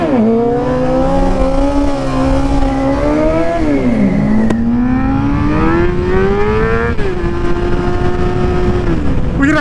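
A car accelerates onto a freeway, its engine note rising and falling through gear changes. The engine stays loud and close throughout, under steady road noise.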